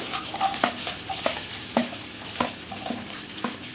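Shallots, green chilies and curry leaves fry in hot oil while a spoon stirs the pan. Soft sizzling runs underneath, and intermittent scraping clinks from stirring cut through it at close range.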